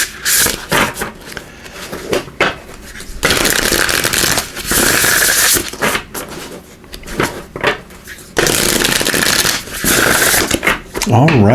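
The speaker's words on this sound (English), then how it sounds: "Give these a good shuffle." A deck of Dream Oracle cards is shuffled in several bursts of brisk riffling and rustling, close and fairly loud, with short pauses between bursts.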